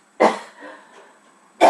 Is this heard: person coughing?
yes